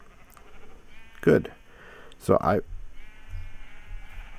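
Two short sheep bleats from Minecraft, a few seconds apart, with someone talking quietly around them.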